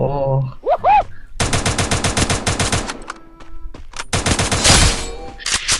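Video game gunfire from an enemy on a roof: loud bursts of rapid automatic fire in two clusters, close and sharp, with a brief voice near the start.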